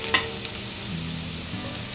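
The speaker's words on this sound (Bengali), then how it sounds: "পেঁয়াজটা একটু ভাজা হয়ে আসলেই" Onions frying in a pan for a Bengali fish curry, a steady close sizzle with faint stirring scrapes and one sharp clink near the start, no voices.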